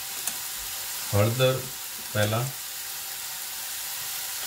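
Grated bottle gourd sautés with spices including turmeric in a pan for a Kathiyawadi dudhi no olo, giving a steady soft sizzle throughout, briefly interrupted by two short bursts of a woman's speech.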